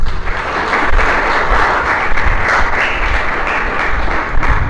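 A congregation at a religious sermon breaks into loud, sustained applause, dense and even throughout with no speech over it.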